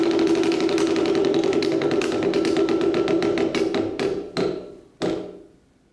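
A prize wheel spins with a fast, steady run of clicks that slows toward the end into a few widely spaced ticks before stopping.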